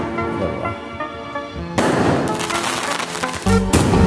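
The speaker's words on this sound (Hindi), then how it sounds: "पटाखे थे पटाखे हम फोड़ रहे हैं।" Firecrackers set off at night at home after a wedding reception in Bareilly crackle and pop in sharp bursts, several loud cracks following each other close by with no talk.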